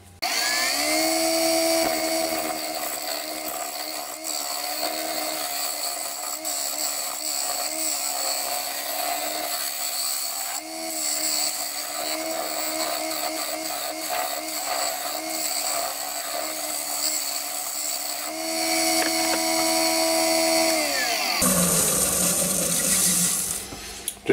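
A 10mm round carbide cutter shapes the foot area of an ash platter on a lathe, giving a continuous loud scraping whir with harmonic tones that shift as the cut varies, then a brief harsher burst at the end.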